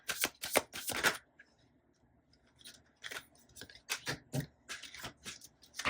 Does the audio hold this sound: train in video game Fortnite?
no